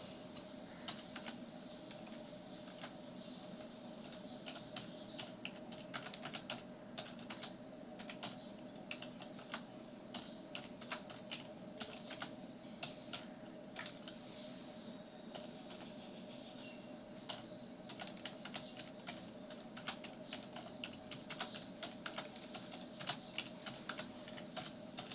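Keys on a computer keyboard are tapped in a quick, steady stream of light clicks, close by and fairly quiet, as new lines of text are entered with no talking.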